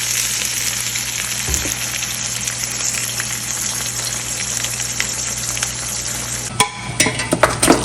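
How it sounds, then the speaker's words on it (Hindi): Onions fry in a kadai (wok), giving a steady, close sizzling hiss throughout, with a few sharper clatters of stirring near the end. No one speaks. "मैंने जो है कढ़ाई चढ़ा दी है, इसमें डाले हैं मैंने प्याज"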